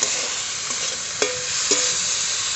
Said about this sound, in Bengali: এর সাথেই চিংড়ি মাছগুলো একটু ভেজে নিচ্ছি, আলাদা করে ভাজার কোনো দরকার নেই।